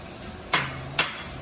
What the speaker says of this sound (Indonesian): Aduk dulu ayamnya pertama kali